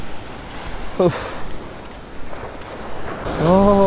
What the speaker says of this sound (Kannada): ಅಲೆಗಳ ಅಬ್ಬರ ಗುರು